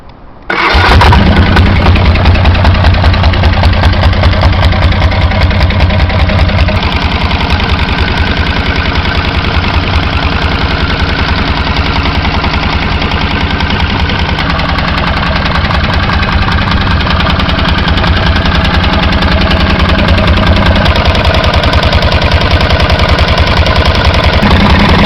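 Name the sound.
812cc two-cylinder diesel engine in Honda CB500T motorcycle frame running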